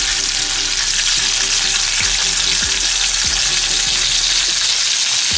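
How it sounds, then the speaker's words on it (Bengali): Sarpunti fish deep frying in hot oil, a loud steady sizzle and crackle filling the whole stretch, with occasional soft utensil taps underneath. "এবার এটাকে আমরা ছাকা তেলে খুব ভালো করে ভেজে নেব"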